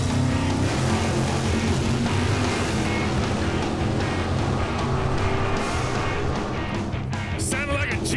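A drag-racing car, a 1970 1/2 Camaro, roars down the strip at full throttle in a loud, steady, dense engine blast that fills the whole stretch, with a few crackling pops near the end and no clear talk.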